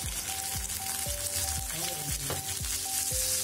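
Garlic, shallots and Kashmiri chillies sauté for a spicy garlic chutney, with a steady close sizzle and occasional light stirring crackles, no voices.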